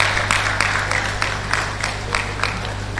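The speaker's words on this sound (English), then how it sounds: "Please a round of applause." Applause from the audience at a science laboratory technology induction ceremony, a steady wash of clapping with a few sharper claps standing out, sustained over a constant low hum.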